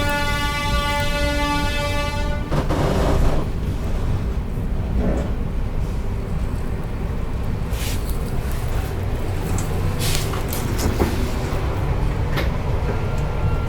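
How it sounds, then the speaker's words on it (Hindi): The Lucknow–Delhi Tejas Express rolls slowly into New Delhi railway station. A brief horn-like tone opens the sound, followed by a continuous low rumble of wheels and wagons with occasional clanks and squeals, loud and near. "अच्छी प्रायोरिटी के साथ आई है अपनी ट्रेन, लेकिन यहाँ पर आकर थोड़ी स्लो हो गई"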